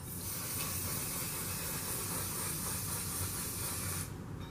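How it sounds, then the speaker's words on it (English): Makeup setting spray misted onto the upper half of the face, a close, steady hiss lasting about four seconds before cutting off abruptly. "I do the top half of my face in one spray and then the bottom half in another spray"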